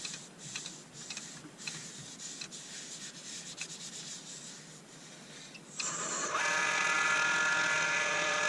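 Superfine abrasive rubbing against spinning turned wood on a lathe for a hydrangea lamp, a steady close scratchy hiss that grows louder and brighter partway through.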